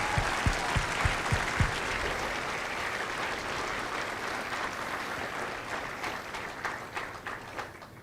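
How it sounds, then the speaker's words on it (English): A crowd at a Marine Corps recruit graduation at MCRD San Diego claps for the families, starting with a few distinct claps before swelling into sustained applause that fades slightly toward the end. "join me in a round of applause for the families of India Company"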